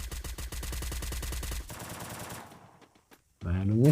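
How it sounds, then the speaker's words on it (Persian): Rapid automatic gunfire in an online shooter video game: a fast, even burst of loud shots for about a second and a half, then fading quiet before a voice speaks. "یکی داره شلیک میکنه، صدای شلیکش میاد"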